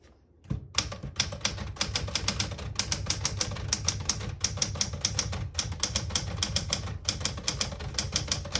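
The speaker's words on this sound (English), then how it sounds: "Beautiful typing machine." A 1976 Smith-Corona Classic 12 portable manual typewriter clacks in rapid bursts of keystrokes, close up and crisp, with brief pauses between runs of typing and a mechanical clunk at the start.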